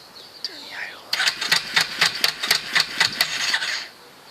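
A rebuilt Yamaha YFM350 Warrior ATV engine runs with its idle turned up, giving a close, uneven, rapid pulsing that lasts a few seconds before fading. A brief voice is heard just before it.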